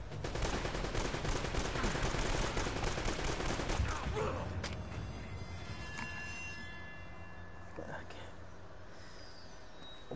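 Rapid AK and SMG gunfire in the action game Uncharted rattles in dense bursts for the first few seconds, then fades into quieter ambience with a few isolated sharp cracks.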